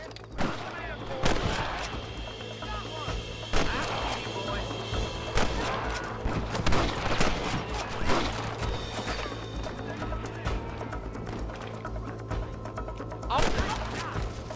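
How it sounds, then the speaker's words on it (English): Gunfire from Red Dead Redemption, a Western game with rustlers: repeated sharp shots and crashes scattered through the clip, with horse hoofbeats clopping, music and occasional talk underneath. "Good shooting, boy."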